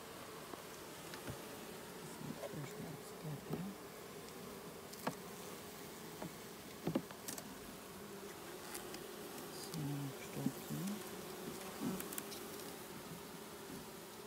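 A steady, low drone of honey bees in a hive fills the whole stretch, many bees humming together close by, with a few faint knocks and rustles.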